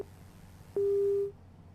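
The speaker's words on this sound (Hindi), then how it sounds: "चलिए लगता है फोन डिस्कनेक्ट हुआ है" A single steady electronic tone on a phone line, about half a second long, after a faint click over quiet line hiss.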